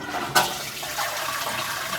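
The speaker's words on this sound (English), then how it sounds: "So when you flush the toilet," A toilet flushes in a Japanese apartment, opening with a sharp click of the handle followed by a steady rushing wash of water, close and fairly loud without speech.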